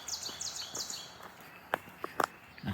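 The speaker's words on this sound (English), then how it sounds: "I hear the birds, that's for sure." Birds chirp in short, high, repeated calls along a hiking trail, fairly close and moderately loud, with a few sharper knocks or steps and soft outdoor background.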